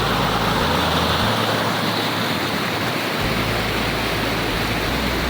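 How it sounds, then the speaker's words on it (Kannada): A hidden waterfall in dense forest pours onto rocks with a loud, steady, close roar of broadband rushing water that fills the whole stretch without a break. "ಅಲ್ಲಿಂದ ನೀರು ಬೀಳ್ತಾ ಇದೆ ನೋಡಿ ಹತ್ತಿರದಿಂದ ನೋಡಿ ಶಬ್ದ ಕೇಳಿ"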